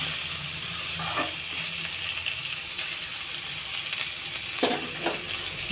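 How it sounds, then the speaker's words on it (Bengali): Potato peels fry in a pan, sizzling steadily close by while a utensil stirs them in a few scraping bursts. "একটু নেড়ে দেবো, নেড়ে ছেড়ে রেখে দেবো একটু সিদ্ধ হওয়ার জন্য।"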